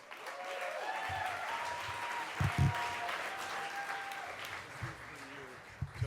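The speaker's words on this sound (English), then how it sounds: "Big round of applause for Tom." An audience applauds for a storyteller coming to the stage at a virtual storytelling event; steady clapping runs throughout with a few louder bursts, and a voice talks over it.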